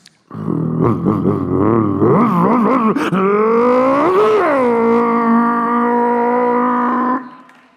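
A voice imitates a revving motorbike, starting with sputtering bursts then rising into a long, loud, steady engine drone before cutting off.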